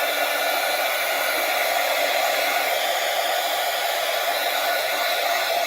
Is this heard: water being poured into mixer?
no